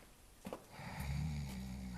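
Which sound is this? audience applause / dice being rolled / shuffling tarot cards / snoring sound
snoring sound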